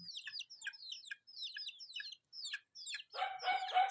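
A chicken cries out in a farmyard after rain, with a rapid series of short, high, repeated calls, close and clear, ending in a louder, harsher squawk.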